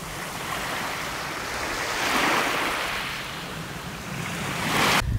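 Waves wash onto a beach on an island bay, a steady rushing surf with gentle swells and some wind across the microphone, no voices.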